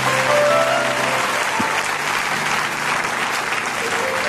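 A church congregation applauds loudly and continuously, dense clapping filling the space throughout, with a voice briefly audible beneath it.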